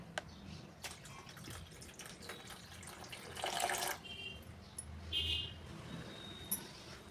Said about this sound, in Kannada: ಅದರಲ್ಲಿ ನೀರು ಹಾಕ್ರಿ